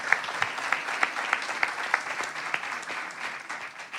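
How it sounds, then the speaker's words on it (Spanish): An audience at a talk on women in politics gives moderate applause, with distinct individual claps standing out in a rhythmic patter that gradually thins. "Así que le damos un aplauso"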